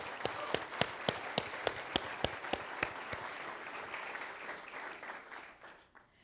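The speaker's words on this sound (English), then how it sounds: "So please join me in also giving Jamie his own special round of applause." Conference audience applauding a person during a business talk on workforce upskilling, opening with a few sharp individual claps that swell into a soft, sustained round of clapping before fading out.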